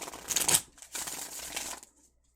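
Crisp riffling tarot card shuffle, two quick bursts of flicking and snapping cards close up, then quiet.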